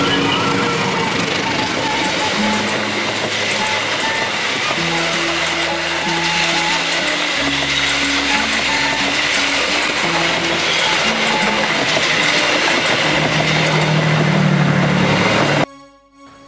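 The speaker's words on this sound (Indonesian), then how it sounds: "saya cukup takjub bisa merasakan halusnya perjalanan naik lokomotif yang kondisinya masih mulus tanpa cacat" Rolling inside a locomotive in like-new factory condition: a continuous loud, smooth rumble of the engine and rails with shifting low engine tones, ending abruptly near the close.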